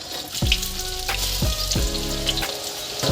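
Bitter gourd pieces frying in hot oil give a continuous crackling sizzle beneath rhythmic background music with deep repeated beats, with no talking.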